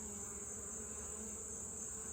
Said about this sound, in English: There's a bee crawling on my hand.